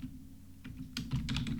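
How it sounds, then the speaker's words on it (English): Quick bursts of keystrokes tap on a computer keyboard, a light rapid clatter that starts sparse then picks up into a close, dense run. "But I start typing"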